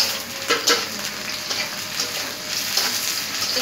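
Carrots and tomatoes frying in a pan for Chinese chicken sizzling, a steady close hiss with a few brief stirring scrapes and clicks, no talking.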